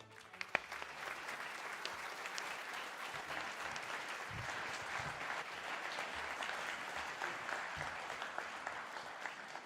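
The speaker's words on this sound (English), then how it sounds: "Can I ask the applause to keep going for our amazing order?" Sustained, steady applause fills a hall at a university computer science graduation ceremony after doctoral candidates are presented, with the clapping staying even and full throughout.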